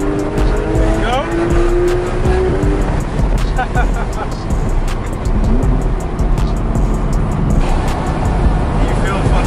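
A Corvette C7 ZR1 accelerates hard down a road, its loud engine roaring continuously with rising gear pulls and some tire noise, while people talk over it inside the car.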